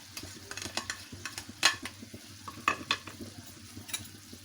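Chicken stir-fried with a small capsicum and two spring onions, heard as a low sizzle under repeated sharp spatula clinks and scrapes against the pan, close and rhythmic.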